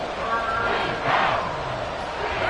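Stadium crowd noise swelling during a football game in Madden 24, a dense, steady roar of cheering that peaks midway through and stays loud throughout.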